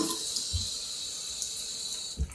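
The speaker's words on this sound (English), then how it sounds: "Run this water. Boom, this water's running good." Tap running in a bathroom of a house being renovated, a steady bright hiss of flowing water with a couple of low thumps, no talking over it.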